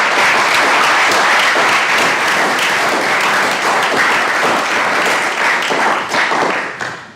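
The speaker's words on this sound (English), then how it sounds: "And the crowd went wild." Crowd at a city commission meeting applauding and cheering after a unanimous vote, dense steady clapping filling the whole stretch and tapering off near the end, loud and close with no talk over it.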